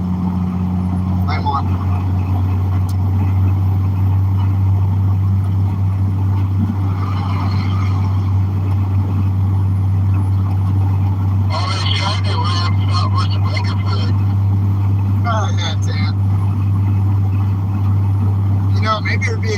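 A box truck engine drones steadily from inside the cab while driving on the road during a holiday convoy, a constant loud low rumble with someone talking briefly over it.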